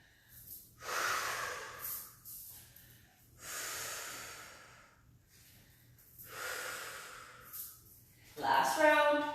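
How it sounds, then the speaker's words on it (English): Slow, deep breaths through the nose and mouth during a self-care stretching exercise: three or four long, soft inhale-exhale swells, close and quiet, with a brief voice near the end. "Keep on connecting with the breath,"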